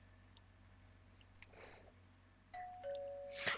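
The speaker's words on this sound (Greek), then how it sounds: "Χτυπάμε το κουδούνι." A doorbell rings in the Roblox video game, a short two-tone electronic chime near the end that follows a few soft clicks over a faint low hum.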